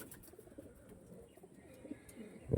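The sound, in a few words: breeder pigeons cooing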